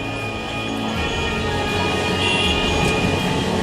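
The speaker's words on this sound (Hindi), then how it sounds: "रेल की पटरियों पर ट्रेन में सवार होकर बिना किसी आवाज के इठलाते ट्रकों को चलते हुए देखा है" Freight train carrying trucks on railway tracks in a roll-on roll-off service: continuous rumbling rail noise with a steady tonal whine, building slightly louder toward the end, no voices.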